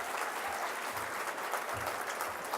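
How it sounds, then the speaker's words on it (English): Audience at a Newport Beach Chamber of Commerce event gives steady, even applause, a dense continuous clapping wash heard alone at moderate distance. "So how about a big round of applause for Shawnee?"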